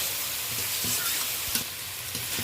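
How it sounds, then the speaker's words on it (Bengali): Onion, tomato and ginger paste fry in a pan under a continuous hiss. Soft spoon strokes come through at intervals as the mixture is stirred, close and moderately loud. "আদা বাটা দেওয়ার পরে খুঁটির সাহায্যে ভালো করে এটা পেঁয়াজ টমেটোর সাথে মিশিয়ে মিশিয়ে আরও দু মিনিট ভালো করে কষিয়ে নেব"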